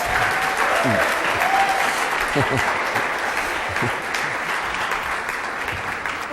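An audience breaks into sustained, loud applause, a thick continuous wash of clapping with a few voices faintly mixed in.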